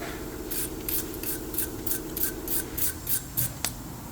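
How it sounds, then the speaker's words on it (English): Brake hardware from the rear brakes of a 2017 Toyota Camry is scrubbed with a brush after a spray of brake cleaner, giving a close series of rhythmic scratchy strokes over a low background hum. "Spray some brake cleaner and brush it."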